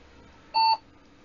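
A computer gives a single short, clean electronic beep while booting, crisp and isolated against quiet background hum.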